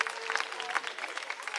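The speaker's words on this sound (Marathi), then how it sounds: "या सर्वांसाठी टाळ्या व्हायला पाहिजेत" Audience applause at a housing society's annual day celebration, a steady dense patter of many hands clapping together, fairly loud and continuous for a couple of seconds.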